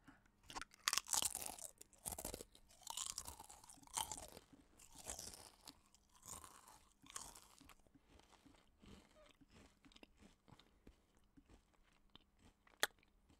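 Someone crunches and chews a crunchy snack bought at a petrol station, with a steady run of close, crisp bites and chews that grow softer toward the end, heard alone.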